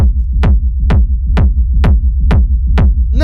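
A techno kick drum and sub rumble with no compressor applied, a steady four-on-the-floor pattern of punchy kicks over a deep, continuous low rumble, loud and alone.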